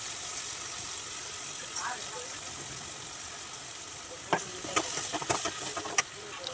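Ground tomato sautéing in a pan for pasta, a soft continuous sizzle with scattered scraping and stirring clicks toward the end, fairly quiet.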